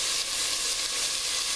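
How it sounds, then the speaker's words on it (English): Steady, close sizzling of ham frying in a hot pot, a continuous bright crackling hiss with no talking. "You can hear the sizzle."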